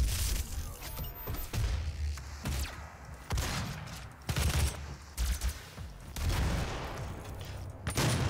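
Gunfire and rocket blasts from Doom 2016 erupt in repeated heavy bursts, with dense booming volleys and short pauses between them, loud and close throughout.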